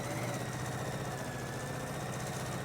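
A sewing machine runs steadily, stitching octagon-shaped fabric pieces together with a continuous mechanical hum and fast, even vibration and no voices.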